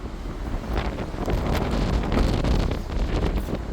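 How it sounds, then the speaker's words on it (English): Strong gusts of wind buffet the microphone aboard a harbor pilot boat off Pensacola, a steady, rumbling roar, with faint hints of water and waves underneath. "A little bit windy today"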